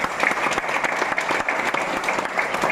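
A conference audience at an LIC agent training gathering in Varanasi bursts into steady, dense applause, loud and close, with no break throughout.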